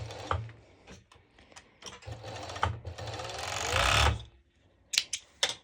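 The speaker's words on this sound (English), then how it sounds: "I'm going directly to serge it" A serger overlocking fabric seams on high waist bottoms, its rapid mechanical stitching whir running in bursts that build to a loud sustained run near the end, with short pauses between and a few sharp clicks afterward.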